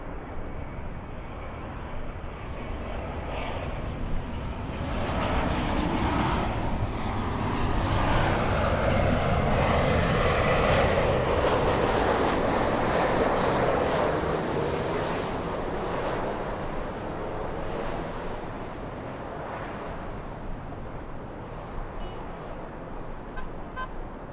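A fixed-wing airliner taxis at LAX with a steady, broad engine roar that swells gradually toward the middle and eases off, heard continuously from a moderate distance with no talk.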